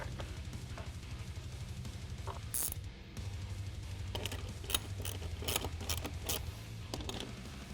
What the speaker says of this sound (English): we can come back with our ratchet and get this all locked in